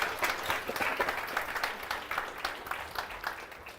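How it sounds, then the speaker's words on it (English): A room full of people clapping together, a dense, lively round of applause from a nearby audience. "please give him a very big round of applause"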